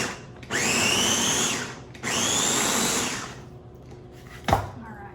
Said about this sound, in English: This is a Ninja food processor, a small one